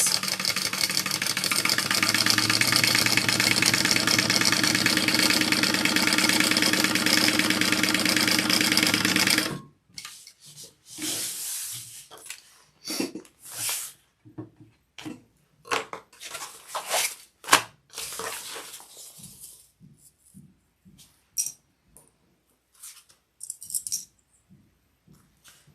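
A sewing machine runs in one continuous fast stitching whir for about ten seconds while sewing a handbag seam. It then stops, and scattered clicks, rustles and handling noises follow.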